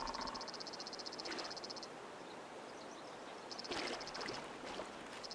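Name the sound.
frog croaking in the video game Retreat to Enen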